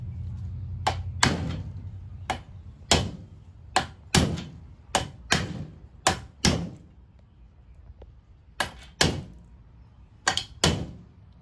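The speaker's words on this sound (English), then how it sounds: "Then hammer the other end in." A roof rack bracket on a Toyota 4Runner is hammered into place with about fifteen sharp metallic blows in uneven bursts, close and loud, with no voices.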